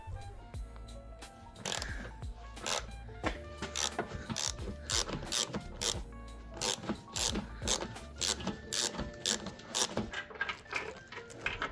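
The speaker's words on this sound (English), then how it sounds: "I'm gonna use this angle extension 15 millimeter socket and my 3/8 ratchet" A 3/8 ratchet with a 15 mm socket on an angled extension loosens a bolt on the aluminium beam of an Alfa Giulietta during control arm replacement. It gives close, rapid bursts of sharp metallic clicking in repeated strokes with brief pauses between.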